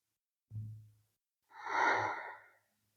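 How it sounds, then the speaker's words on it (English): A slow, calm breath during a gentle yoga flow: a short soft inhale followed by a longer audible exhale, close and quiet with no talking. "Taking a couple of breaths in and out here."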